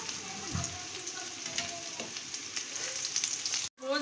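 Koftas frying in hot oil for a kofta curry make a steady close sizzle with light crackle, broken by a brief stir or scrape and a sudden drop out near the end.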